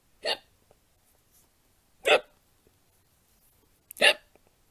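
A small lamb hiccups three times, each a short sharp gasp spaced about two seconds apart, close and clear against near silence.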